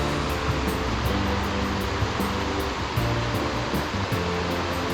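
At the Crystal Cascade waterfall in New Hampshire, running water roars in a loud, dense, steady rush close by, with no one speaking over it.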